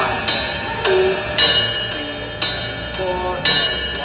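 Ride cymbal bell on a drum kit struck five times at a steady, unhurried pace, each ping bright and metallic with a long shimmering ring that carries into the next hit, played close with no voice over it.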